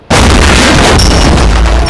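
An explosion goes off in GTA India, a loud sudden blast that bursts in almost at once and carries on as a dense, rumbling roar to the end, with no talking.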